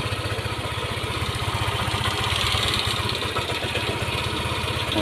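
A Yamaha Aerox motor scooter engine idles just after starting, with a steady, close putter and fast even pulsing that holds at a constant level throughout, with no one speaking.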